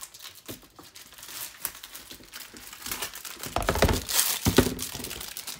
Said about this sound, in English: and this is how you cut the bag open.